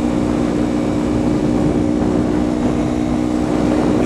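Engine of a new motorcycle revving steadily and loudly throughout, a continuous droning tone with no pauses and no talk.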